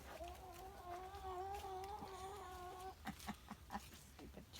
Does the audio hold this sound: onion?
no